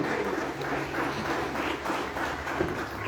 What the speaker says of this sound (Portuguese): Aplaudam a palavra, irmão.